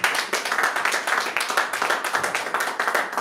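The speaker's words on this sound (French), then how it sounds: "Non, on acclame aussi pour notre sœur Marita." A church congregation applauds a sister named Marita after her reading, with steady, dense clapping from many hands throughout, fairly close and lively, with no speech over it.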